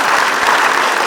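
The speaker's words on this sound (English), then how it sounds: "Give a good applause to all the people behind it." Audience applause at a yoga conference, a brief, loud, dense wash of many hands clapping together.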